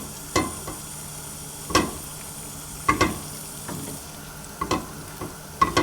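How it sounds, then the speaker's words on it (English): Melted butter bubbling in a pan over low heat, the start of a roux for mac and cheese: scattered sharp pops and clicks over a faint steady sizzle, close and quiet with no talking. "It's starting to bubble."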